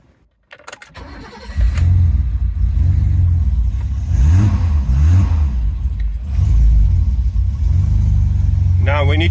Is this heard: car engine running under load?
yes